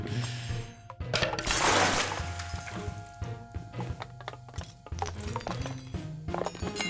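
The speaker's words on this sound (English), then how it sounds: "Looks like we broke the glass too." Glass shatters in Octodad: Dadliest Catch, a loud crashing burst followed by a scattered series of smaller clinks and knocks as pieces settle, with no talk.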